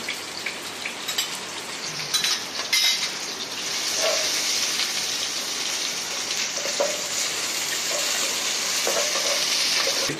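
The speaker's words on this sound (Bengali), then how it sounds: "পেঁয়াজটা ভালোভাবে নেড়ে চেড়ে ভেজে নিব। এবার দিয়ে দিচ্ছি আদা বাটা," Onions with ginger paste sizzle and fry steadily in a pan for a khichuri, a continuous hissing crackle with brief stirring clatter, close and fairly loud, no voices.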